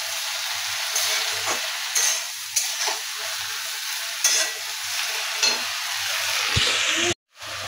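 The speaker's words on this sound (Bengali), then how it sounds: "আমি একটু শাক ভাজে পাঁচ ফোড়ন দিই, ভালো লাগে।" Greens (shak) frying with panch phoron, salt and turmeric in a home kitchen: a continuous close sizzle broken by repeated scraping stirs of a spatula, ending in a short abrupt gap.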